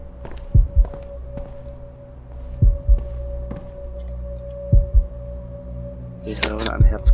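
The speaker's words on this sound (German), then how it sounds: "Ich höre ein Herzklopfen." Heartbeat sound effect from the video game Observer: paired low thumps recurring about every two seconds over a steady electronic hum, ending with brief higher game noises.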